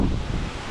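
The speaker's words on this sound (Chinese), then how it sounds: "太难受了，一直都在刮大风。" Strong gusting wind on a hillside during a long-distance bicycle trip on a stormy, rainy afternoon, a steady close roar battering the microphone for under a second, with no voices.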